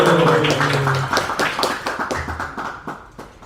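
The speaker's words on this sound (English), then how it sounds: "let's welcome him with a big round of applause" An audience at a devotional Krishna Katha gathering claps to welcome a speaker, starting with chanting voices and then settling into many overlapping claps that gradually thin out and fade.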